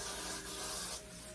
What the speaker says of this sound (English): make sure to spray my baby hairs on the top of my head